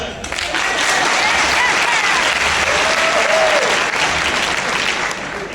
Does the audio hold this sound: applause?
yes